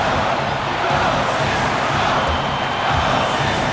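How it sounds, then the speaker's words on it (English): Broadcast crowd in an NBA 2K22 basketball game, Atlanta Hawks at Philadelphia 76ers, roaring and cheering at a steady, loud level throughout with no clear speech. "you gotta love hearing a crowd get this fired up"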